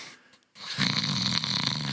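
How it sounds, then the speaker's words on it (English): A loud, rasping snore comes from inside a wardrobe in a dark room, starting after a brief hush and swelling into a sustained, nasal rumble. "With snoring coming from it."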